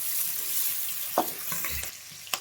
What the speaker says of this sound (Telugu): మెంతెక్కువ వేసి కూడా బాగా కలపండి మంచిగా